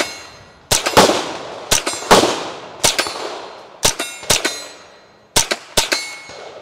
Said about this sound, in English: it being a totally metal rifle shooting .22 long rifle